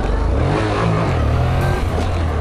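A Honda NC750 training motorcycle revs hard with heavy clutch slipping during a wheelie attempt, its engine roaring loud and close throughout.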